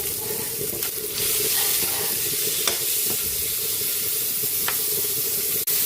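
Chicken liver sizzles steadily in a hot frying pan for chopsuey, a continuous close hiss with occasional light stirring clinks and no talk.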